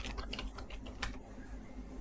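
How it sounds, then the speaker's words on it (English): Steady typing on a computer keyboard while entering data manually into a table, a close, quick run of soft key clicks with occasional louder taps, no talking. "here you can enter the data manually from the keyboard like this"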